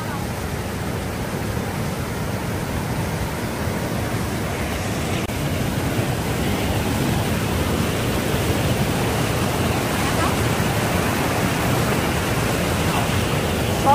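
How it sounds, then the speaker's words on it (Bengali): Fast-flowing Vyas river current in Manali, Himachal Pradesh, a steady broadband rush of water that stays constant and fairly loud the whole time, with no voices over it. "কি জোরে যাচ্ছে, মানে ভালোই স্রোত জলের"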